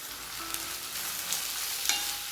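Onions with crushed ginger and garlic sauté in a pan over a medium flame, giving a steady, even sizzle with a couple of faint clinks and no voices.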